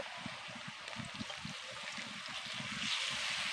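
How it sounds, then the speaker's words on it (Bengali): A little water poured into spices frying for a Bengali pumpkin curry, a soft steady trickle with faint sizzling, close and quiet, growing slightly louder toward the end. "এবার অল্প করে জল দিয়ে দেব"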